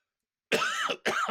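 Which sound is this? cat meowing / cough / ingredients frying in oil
cough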